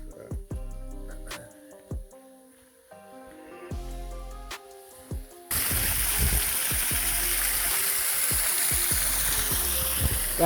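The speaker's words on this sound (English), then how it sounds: "Oh, there's the waterfall." A waterfall heard on a camping hike, rushing in abruptly partway through as a loud, dense, steady roar of falling water that drowns out the quieter scattered knocks and footsteps before it.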